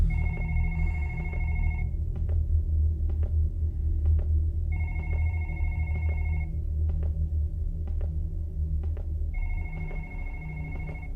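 Telephone bell ringing in a video game, three loud repeated bursts of electronic trilling separated by short pauses, over a low steady ambient rumble.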